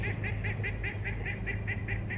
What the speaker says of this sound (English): What's happening to this bird?